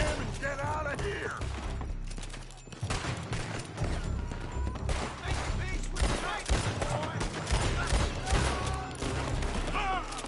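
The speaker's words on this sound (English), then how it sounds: "They're shooting from that building!" Dense gunfire erupts from a building during a Red Dead Redemption 2 shootout, rapid overlapping shots and impacts crackling throughout amid battle noise and shouted voices.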